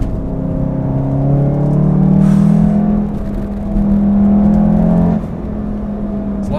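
A VW MK7 Golf R in race mode on a bumpy back road, its engine humming loud and close from inside the cabin, revving up and easing off between gear changes under steady road rumble.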